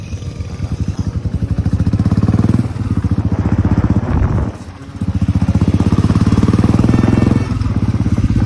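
Motorcycle ridden over a dirt track, close and loud: a continuous throbbing engine note that revs up and down, briefly drops away midway, then picks up again.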